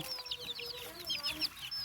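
Chickens cluck softly in a rural yard, with several short bright calls in quick irregular succession, faint against light background noise.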